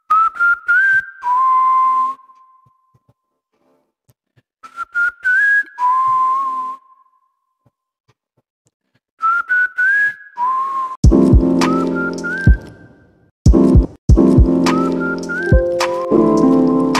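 A processed whistled melody in a chill lo-fi track repeats its short phrase with silent gaps, then continues over soft thudding drum hits and a warm backing loop.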